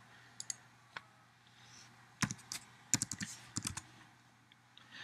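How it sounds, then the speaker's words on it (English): Computer keyboard being typed on to enter values, a few scattered taps followed by quick clusters of crisp close keystrokes in a quiet room, with no talking. "so I'll just type those in."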